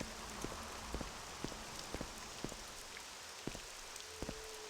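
Heavy rain pours in a Morrowind game town at night: a steady, dense hiss of downpour with scattered sharp drip ticks close by, and no voices.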